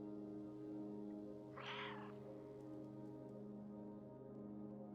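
A single short cat meow from the cat in the video game Stray, heard clearly once over a steady humming ambient drone with faint rain-like patter.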